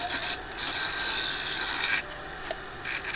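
A scraper held tip-down cuts spinning wood on a lathe, making a close, continuous raspy scraping with short breaks in contact.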